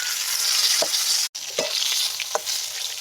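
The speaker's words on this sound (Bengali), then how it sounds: "এবার আমি পটলগুলোকেও ভেজে নিচ্ছি" Slices of pointed gourd fry in hot oil, giving a steady, bright sizzle with a few short scraping stirs of the spatula, close and moderately loud, with no voices.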